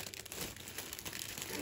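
Cellophane crinkles and rustles up close as edges are tucked around a gift hamper, a dense continuous crackling with no talk.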